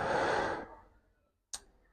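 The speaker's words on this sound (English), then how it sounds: "Exhale as you come out of it." A single long, breathy exhale while rising out of a squat fades out, followed by a quiet pause and a short, sharp intake of breath.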